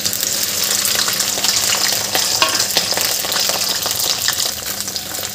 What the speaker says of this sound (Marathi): कढईमध्ये आपण तेल गरम करायला ठेवलेलं आहे. यामध्ये आपल्याला अगोदर पहिले भेंड्या चिरलेल्या त्या घालून घ्यायच्या आहे.